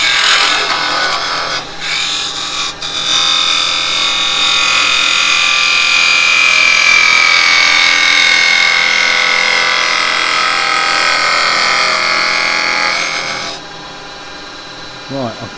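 Hollowing tool scraping inside a spinning wood turning on a lathe, a steady, loud abrasive rasp with a faint whine that holds for about twelve seconds before cutting off; a brief voice follows.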